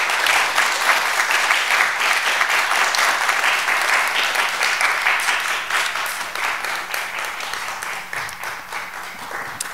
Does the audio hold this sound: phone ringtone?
no